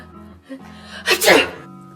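A voice is cut off by a single loud, sharp sneeze from a woman with a cold, preceded by a quick intake of breath, close to the microphone.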